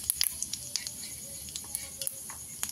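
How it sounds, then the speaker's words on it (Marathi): Cumin seeds crackle in hot oil for zunka, with irregular sharp little pops and sizzling spatters scattered through a quiet, close background. "असं तडा उडलं पाहिजे मैत्रिणींना जिरं"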